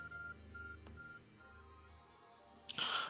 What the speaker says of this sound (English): Arc phone is beeping